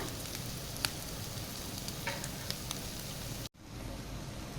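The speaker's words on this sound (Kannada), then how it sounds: "ಫ್ರೈ ಮಾಡೋಣ." Chicken for chilli chicken frying in a pan, a steady close sizzle with a few small pops, which stops abruptly near the end and leaves a faint hiss.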